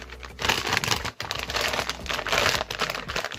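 Plastic wrapping on a wine bottle crinkles and crackles up close in quick, irregular bursts for a few seconds.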